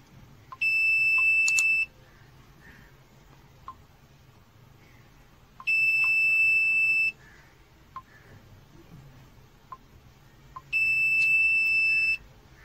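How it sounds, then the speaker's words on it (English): Arduino distracted-driving alarm built with an MPU6050 sensor: a piezo buzzer gives three loud, steady, high-pitched beeps, each about a second long and spaced roughly five seconds apart, over faint background ticking. "a buzzer is activated, which alerts the driver"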